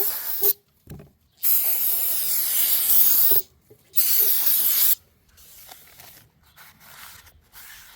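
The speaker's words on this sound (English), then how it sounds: "So you take your trusty brake clean right there" Brake cleaner sprayed from an aerosol can onto brake parts during a Honda HR-V brake job: three strong, close hissing bursts of a second or more each, separated by short pauses, then softer intermittent hiss.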